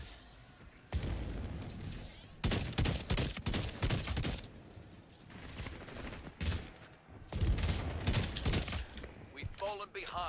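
Burst-fire gun shooting in a Splitgate 2 arena match: repeated loud clusters of quick shots separated by short gaps, over busy game sounds with some voice.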